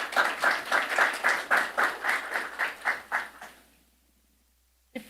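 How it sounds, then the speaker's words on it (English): An audience at the launch of a national e-commerce strategy for Trinidad and Tobago claps in quick, evenly spaced bursts. The clapping fades out after about three seconds, leaving near silence and then one sharp knock. "I ask you all to give yourselves a round of applause."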